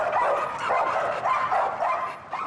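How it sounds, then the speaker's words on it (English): Guard dogs in training with a citizens' response group, heard as continuous rough barking and whimpering yips that carry on steadily and fairly loudly without any talk. "We train these guard dogs because the authorities don't do enough to help us."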